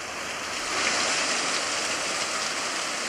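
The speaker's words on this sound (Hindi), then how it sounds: "आगे चल के देखते हैं जहाँ पानी गिर रहा है" Water from a waterfall in Skardu, in the Manthoka and Shigar area, roars steadily and loudly, a dense unbroken rush of noise at close range without talk.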